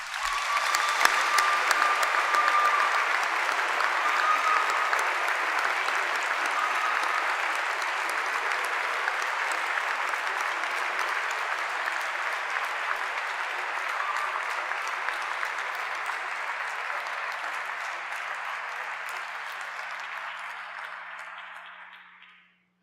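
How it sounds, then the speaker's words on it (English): A commencement audience at a Saint John's University graduation claps in long, dense, sustained applause that carries on evenly for about twenty seconds before tapering off and fading out at the end. "Please join me in a round of applause."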